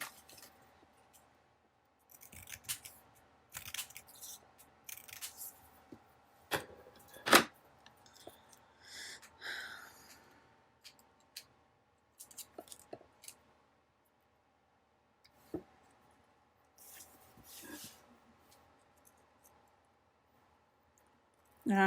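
Scissors cut out paper letters in quiet, intermittent bursts of soft snipping and crisp paper rustle, close to the microphone, separated by silent pauses, with no talking.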